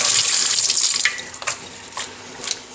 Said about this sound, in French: je rince à l'eau claire